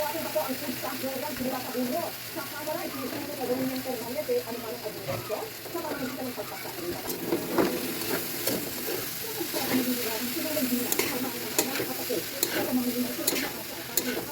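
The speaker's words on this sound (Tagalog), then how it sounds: "Gisahin niya daw muna yung magulay." Vegetables sauté in a pan with a continuous sizzle, broken by repeated scraping and clanking as they are stirred. A voice talks quietly over the cooking.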